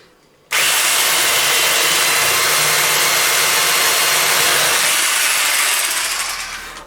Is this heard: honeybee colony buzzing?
no